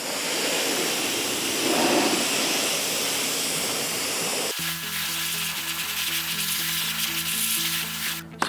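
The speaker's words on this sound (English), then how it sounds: "Now we pressure rinse." A pressure washer sprays a dirty car wheel in a steady, loud, hissing rush, then cuts off and gives way to a quieter, tonal background.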